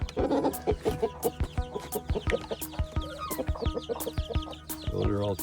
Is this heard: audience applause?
no